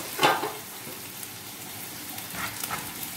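Onion frying in oil in a pan on the stove, a short louder spatter near the start, then a quiet, steady sizzle.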